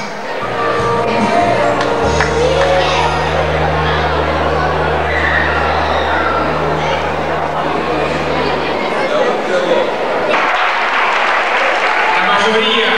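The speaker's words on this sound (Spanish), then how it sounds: "Fuerte el aplauso." Crowd applause fills a club anniversary celebration, a dense steady roar of clapping and chatter with a loud sustained low hum running through the middle.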